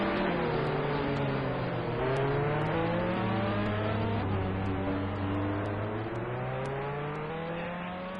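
A race car engine in endurance racing at Fuji, held on the rev limiter, giving a loud sustained buzzing drone with steady, slowly shifting pitch and no talking.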